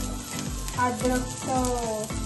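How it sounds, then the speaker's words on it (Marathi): Green chilies hitting a hot pan on low gas while making homemade noodles: close, steady frying sizzle with crackles and a faint tonal hum from the stove beneath. "आता आपण इथं हिरवी मिरची टाकू."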